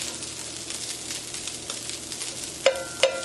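Salmon frying in a non-stick pan gives a soft steady sizzle, with a few light stirring scrapes and two sharp metallic clinks near the end as it is flipped, and no talking.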